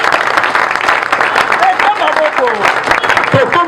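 Applause from an assembled parliament audience, a dense continuous wash of clapping, loud and steady across the moment, with voices and whistle-like calls rising through it.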